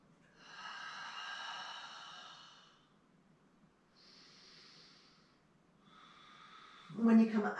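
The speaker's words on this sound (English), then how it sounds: "You take another breath or two here." Slow, audible breaths during a seated yoga twist: a long airy exhale, a softer inhale, then another breath, ending in a brief voiced sound close to the microphone.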